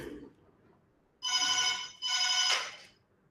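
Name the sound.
telephone ringing with an incoming call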